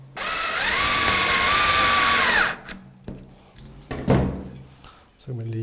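A cordless power drill whirs steadily for about two seconds driving a self-tapping screw into a nest box bracket, then winds down into clicks, knocks and handling clatter as someone speaks.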